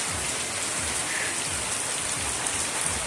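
Heavy rain pours down steadily on a rural home's roof and surroundings, a loud, dense and continuous wash with no talking.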